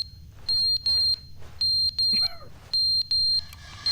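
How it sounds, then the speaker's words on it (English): Alarm sounding inside The Stanley Parable video game: repeated pairs of shrill electronic beeps in a steady on-off pattern over a low hum, with a brief warbling tone between bursts and no speech. "alarm going off for?"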